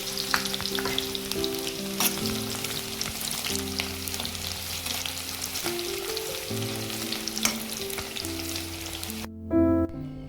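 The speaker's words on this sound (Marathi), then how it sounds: "आता आपण जे कांदे चिरून घेतले होते त्यातला थोडा कांदा आपण इथे तळून घेणार आहोत पुलाव सजवण्यासाठी" Chopped onion fries in hot ghee as a garnish for pulao, giving a continuous sizzle over a steady tonal backing, with a brief louder burst near the end.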